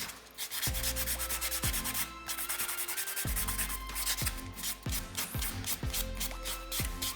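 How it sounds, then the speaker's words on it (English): A nail buffer rubs back and forth over a fingernail during a DIY dip powder manicure, a steady close scratchy buffing in repeated strokes with no talking. "back to my buffer and buff right around that area again to make sure that where I drilled is really smooth with the rest of the nail."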